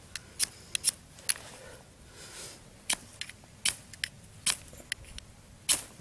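Someone scraping the coating off a new tool or object to start a fire, a series of sharp scratchy strokes in irregular bursts, close and fairly quiet against a faint background hiss.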